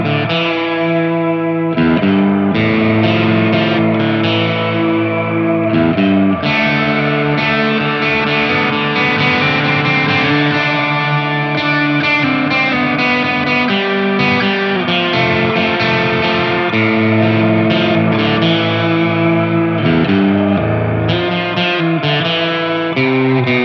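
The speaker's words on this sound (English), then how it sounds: "a reverb of unparalleled depth and clarity, with more richer and more detailed reverb sound" Electric guitar chords through a Light reverb pedal ring out continuously, washed in a deep, lush reverb with a slightly gritty, modulated effect, loud and unaccompanied by talk.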